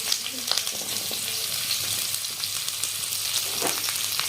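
Steady, continuous sizzling of large-cut onions frying in hot oil on high flame, with occasional crackles and faint stirring, close up and fairly loud throughout.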